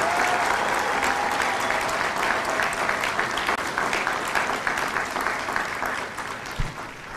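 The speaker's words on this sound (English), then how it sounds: "please join me in a round of applause" A crowd applauds loudly and steadily at a Marine Corps recruit graduation ceremony at MCRD San Diego, dense clapping sustained for several seconds before gradually tapering off.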